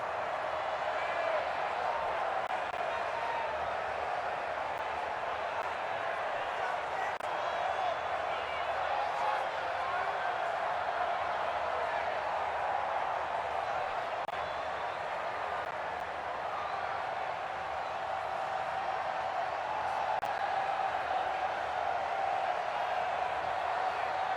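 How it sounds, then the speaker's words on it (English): A stadium crowd in the video game Madden AFL '66 roars in a steady, continuous wash of noise during a football game, sustained without clear peaks. "The crowd getting into it as we come up on a big 3rd down"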